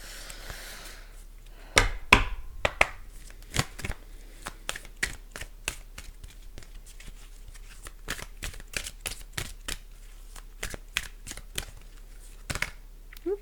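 Oracle cards shuffled by hand for a tarot-style reading, giving a long run of crisp, rapid card snaps and riffles with irregular rhythm, close up and alone with no talk.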